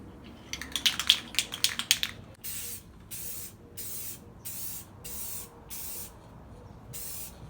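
Second coat being sprayed onto a headlight lens: a quick series of short rattling bursts, then about eight evenly spaced hissing spray passes, close and clear with no talk.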